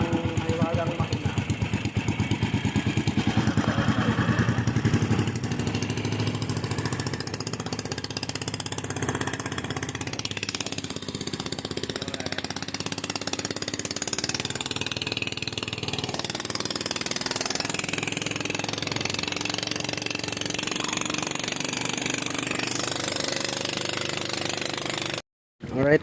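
An outboard boat engine on a bangka near Taal, Batangas runs continuously and loud, a steady rattling drone up close with louder revving at the start, before cutting off abruptly at the end.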